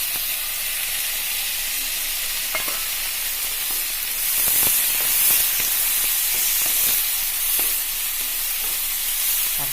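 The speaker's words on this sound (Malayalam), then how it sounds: "ഇതിലേക്ക് നിറച്ച് വെച്ചിരിക്കുന്ന തക്കാളി കൂടി നമുക്ക് ചേർത്ത് കൊടുക്കാം" Tomatoes sauté with onions in a hot pan for a bottle gourd masala curry, giving a continuous bright sizzle with scattered clicks and scrapes from stirring, close up and with no talk.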